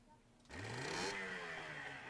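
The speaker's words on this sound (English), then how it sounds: "Sounds like a bloody 50cc motorbike" A boat's outboard motor in Secret Files 2 sputters into life and settles into a steady, buzzing idle, loud and close, after a quiet start.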